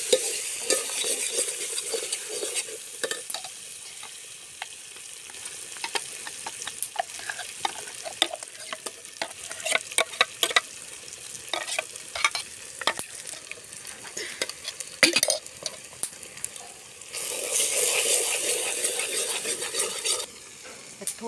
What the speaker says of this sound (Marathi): चांगलं तेल सुटेपर्यंत त्याला परतून घ्यायचं